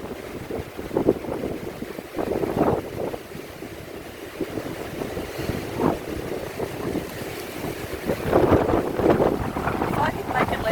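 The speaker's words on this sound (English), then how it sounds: "If I could make it less windy," Strong outdoor wind buffets the microphone in uneven gusts and rumbling bursts, swelling and easing throughout, with a person's voice faintly mixed in under the noise.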